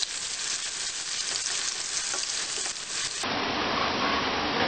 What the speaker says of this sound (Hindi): इसको ट्रांसपेरेंट होने तक हमें भूनना है